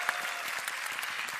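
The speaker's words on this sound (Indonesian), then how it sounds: "Boleh tepuk tangan lagi." Audience at a Jakarta stand-up comedy stage event clapping for four gubernatorial candidates, a short, fairly soft patter of hands with distinct individual claps.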